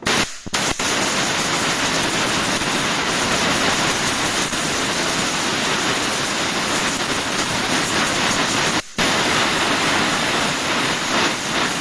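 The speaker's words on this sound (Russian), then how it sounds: "Тоже надо продуть чуть-чуть вот здесь, чтобы эта вся грязь не шла" Compressed air blows dirt out of the EGR valve on a Toyota Alphard engine: a loud, steady broadband hiss close to the microphone that runs nearly the whole time, broken by two very brief cutoffs.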